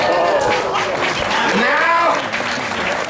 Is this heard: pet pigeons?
no